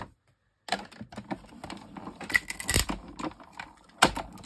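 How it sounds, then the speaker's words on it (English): A die cut machine presses a Mylar stencil through its plates, giving a series of sharp, irregular cracks and clicks after a brief silence, close and fairly quiet, with no voice. "Mylar always makes a cracking sound, so don't worry."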